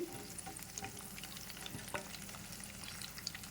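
Steady, quiet sizzling of green chillies frying in oil, with soft crackles and pops scattered throughout and no voices.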